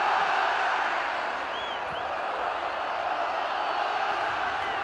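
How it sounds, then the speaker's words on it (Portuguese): A Treze football crowd in a Paraíba stadium chants olé as a steady, far-off roar that holds at an even level without clear breaks. "A torcida do Galo começa a gritar olé"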